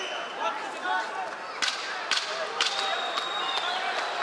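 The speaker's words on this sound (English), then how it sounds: "There's the 10-second clapper." Ten-second warning clapper struck at ringside during a UFC-style MMA bout between Umar Nurmagomedov and Cory Sandhagen: several sharp wooden cracks in a row over crowd noise and a commentator's voice.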